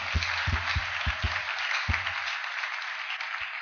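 A church congregation claps together to praise the Lord during a pastor's service, a steady wash of applause with several deep, rhythmic thumps beneath it early on that fade out.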